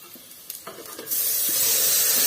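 Tamarind water and chilli hit a hot cooking pan, bursting into a loud, steady sizzle that swells suddenly after a quieter stirring start and keeps hissing close up with no talk.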